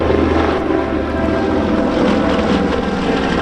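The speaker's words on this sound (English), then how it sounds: "It's approaching now from the left as the B-25 Mitchell goes by." WWII warbirds, a B-25 Mitchell and a Douglas A-26, flying past at the Terre Haute airshow; a steady, loud piston-engine and propeller roar fills the whole stretch with no talk.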